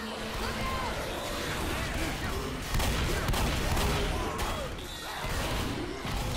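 Gunfire and chaotic combat racket fill a Left 4 Dead co-op round at a floodgate as infected swarm the players; shots blend into a dense, continuous wash of noise with voices talking over it.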